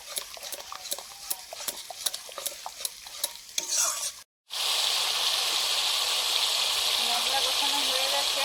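Spice paste with beaten sour yogurt is stirred in a hot pan for a Bengali katla fish curry, rhythmic spoon scrapes over a faint sizzle, then a brief gap before a loud, steady frying hiss and gush.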